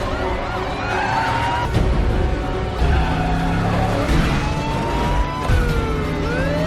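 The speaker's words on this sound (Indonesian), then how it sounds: "Terjadilah adegan kejar-kejaran." Car chase in an action film, with a thief in a stolen car fleeing a casino: busy dense mix of revving engines, tyre noise and siren-like wails, loud and continuous throughout.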